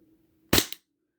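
A SIG SAUER P226 airsoft pistol fires a single sharp, loud crack with a faint second snap just after, followed by silence against a quiet background hum.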